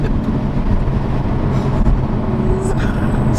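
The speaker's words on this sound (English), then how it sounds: "Man, the spool and the blow off noise still make my day." A Toyota A90 Supra's turbo spools with a thin whine over a steady engine and road drone, followed by a brief hissing blow-off valve release.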